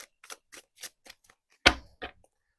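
A deck of tarot cards shuffled by hand, a run of soft papery flicks followed by one louder slapping thump and a final light riffle, close up with no talking.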